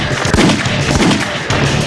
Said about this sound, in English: every time you select something in this game, a gun sound effect will go off